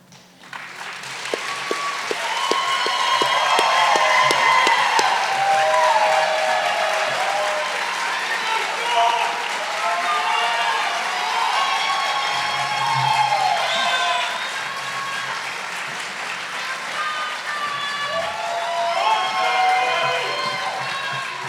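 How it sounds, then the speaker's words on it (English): Audience at a House of Delegates district debate applauding and cheering the candidates, sustained clapping with shouts and whoops from a sizable crowd, swelling early and holding steady, with a few voices calling out over it. "let's have a warm round of applause for the people willing to serve."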